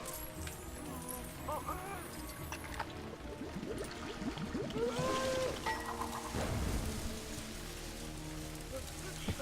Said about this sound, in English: What should we do about this room that's raining?